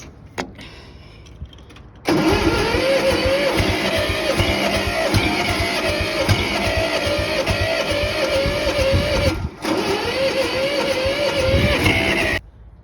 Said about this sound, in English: This is attempting a cold start with a little bit of ether